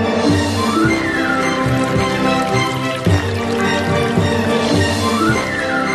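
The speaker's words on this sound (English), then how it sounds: "out came a precisely measured cup full of expensive but holy water" Holy water pours from an ancient coin-operated dispenser in a steady liquid stream with some dripping and trickling, close and clear over a faint tonal background.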